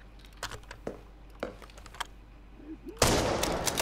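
Gunfire in the shooter game Arena Breakout: Infinite: a few sharp, separate shots early on, then a loud, dense burst of continuous fire near the end, all fairly close.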